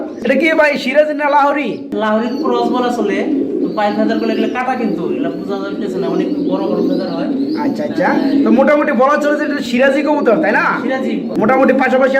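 Lahori and Sirazi pigeons coo softly in the background of a pigeon farm while someone speaks continuously up close.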